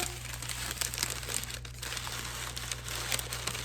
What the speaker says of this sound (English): a little more of that tissue paper.